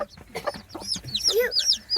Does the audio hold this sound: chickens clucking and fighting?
yes